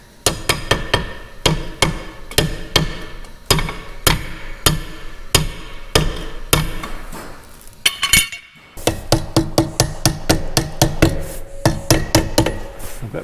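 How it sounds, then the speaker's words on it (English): Repeated metallic hammer blows ring out close and loud, a steady run of sharp strikes with a short pause midway before another quicker burst, set during bolt and chain repair work. "Ooh, got a nice hammer here."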